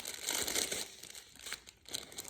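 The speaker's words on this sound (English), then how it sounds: "take these out of their little plastic bag." Small plastic bag of diamond painting drills crinkling and rustling as the tiny resin pieces are pulled out, a close, continuous crackle of thin plastic with brief tearing-like bursts.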